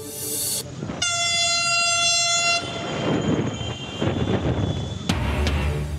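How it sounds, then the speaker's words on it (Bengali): A Dhaka metro rail train on its trial run sounds a loud, sustained horn blast over the steady rumble of the moving carriages, followed by more rolling rail noise and a sharp clatter near the end. "মেট্রো রেলের ট্রায়াল রানের দ্বিতীয় দফায় চলল প্রথম 4টি স্টেশনে।"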